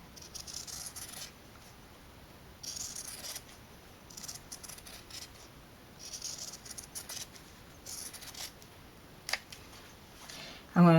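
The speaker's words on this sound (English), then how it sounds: "So what I'm going to do here is I'm going to trim around." Scissors snip around the edge of fabric for a homemade school backpack, short bursts of close cutting scattered across the stretch, with a sharper knock near the end.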